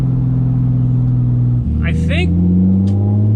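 A Porsche 996 fitted with a race exhaust of 2.5-inch to 3-inch race mufflers drones loudly and steadily as it drives, its engine note shifting mid-way, with a person speaking briefly over it.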